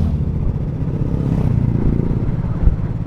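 Motorcycles rumble past along a winding road in Croatia, a continuous loud engine drone with revving and a brief louder swell near the end, traffic steady and close.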